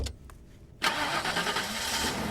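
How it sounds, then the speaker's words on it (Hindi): A car engine cranks briefly and catches, then settles into a steady, close idle after a short quiet pause, with no one speaking. "गाड़ी स्टार्ट कर।"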